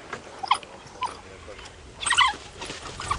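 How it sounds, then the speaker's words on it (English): African wild dogs squabbling over an impala carcass, giving short high squeaks, yelps and twittering calls in scattered bursts, with a louder flurry in the middle, heard at moderate distance. "wild dogs"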